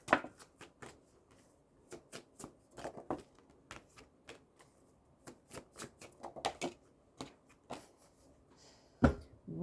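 Tarot cards being shuffled and drawn, a run of quiet crisp flicks, snaps and soft slaps at an uneven pace, close up and without talk.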